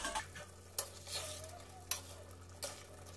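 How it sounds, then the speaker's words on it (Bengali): Pointed gourd korma with cashews simmers and sizzles softly in a pan, a faint hiss punctuated by three sharp spatula scrapes against the metal, close by. "মাঝে মধ্যে একটু নাড়তে হবে।"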